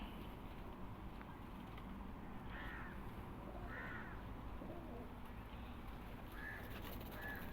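Soft cooing of Rampuri pigeons and scattered bird calls over a constant low background hum, distant and faint, with no talking.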